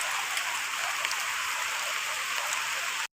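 Steady rain falling outdoors on a farm, a dense even hiss of drops throughout, close and fairly loud, with no voices, ending abruptly.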